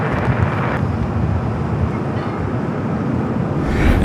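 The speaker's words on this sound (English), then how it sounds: "777 at 300ER coming in from Auckland. It's flight 6 touching down at 25 at left." Air New Zealand Boeing 777-300ER from Auckland touching down on runway 25 Left at LAX, a steady broadband roar of jet engines and rushing air that holds at one level through the clip.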